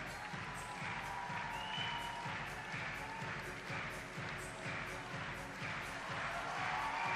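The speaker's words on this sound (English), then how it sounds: "if you're hearing a cheer from the crowd, it's because Sean just asked them for one, and they respond" Spectators at a bouldering final of the Innsbruck 2016 IFSC Climbing World Cup cheer and applaud steadily, the crowd noise heard from a distance and fairly faint in a large venue.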